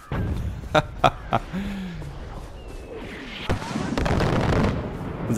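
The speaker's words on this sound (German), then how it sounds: "sie schießen tatsächlich wieder mit Mörsern, ey" Mortar fire in Far Cry 4: several sharp distant booms early on, then a denser rumbling barrage building toward the end, with no talk over it.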